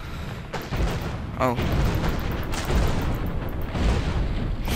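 Cannon fire in the shooting video game Gun The Game: loud, dense booming blasts that run almost without pause, with gunfire-like crackle and a brief spoken exclamation.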